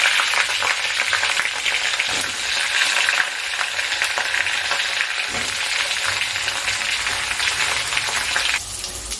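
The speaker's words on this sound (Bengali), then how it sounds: "সমস্ত বড়া ভাজা হয়ে গিয়েছে এবার আমি পটলগুলো ভেজে নিচ্ছি" Slices of pointed gourd frying in oil in a kadai, giving a dense, continuous close sizzle with a brief dip and a slight softening near the end, with no voices.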